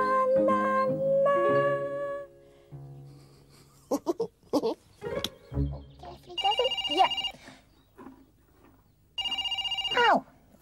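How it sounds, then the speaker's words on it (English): A telephone rings in bursts of bright electronic trilling tones, two opening rings then later repeated rings, with brief vocal sounds and musical bits between them in a children's TV setting. "Oh, phone's ringing."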